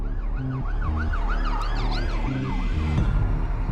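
An ambulance siren wails continuously in rising and falling sweeps over steady road traffic rumble on Britain's A1 road, loud and fairly close.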